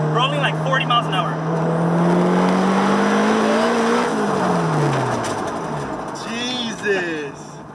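A turbocharged Honda S2000 pulls hard in third gear from about 40 mph, engine note rising steadily in pitch over several seconds before easing off, loud and close inside the car, with people's voices at the start and end.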